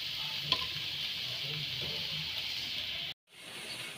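Momo stuffing fries in a pan, a soft, steady sizzling hiss with a faint clink early on, cutting out abruptly near the end before resuming more quietly.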